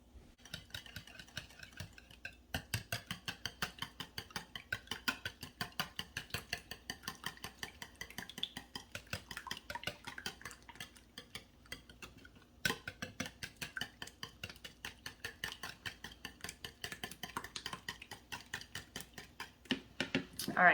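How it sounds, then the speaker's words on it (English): Peach French toast batter is whisked briskly in a bowl, giving a steady run of fast, close clinks and taps of the whisk against the sides, with two short pauses along the way. "I'm gonna get my whisk, and we're gonna whisk this together really quick."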